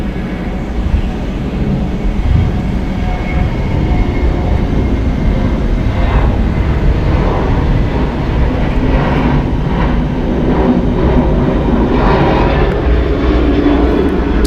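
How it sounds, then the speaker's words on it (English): Delta Airlines Airbus A321 departing from the south side of Atlanta Hartsfield-Jackson International Airport, its engines giving a loud, steady roar that holds strong throughout with no talking. "Departing on the south side, Delta Airlines Flight 457 going to LAX, our home base. It's an Airbus"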